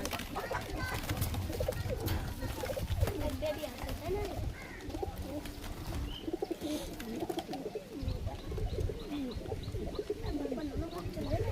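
Pigeons coo in a loft housing Kaldum and Teddy breeds, with repeated soft throaty coos from several birds beneath almost continuous nearby talk.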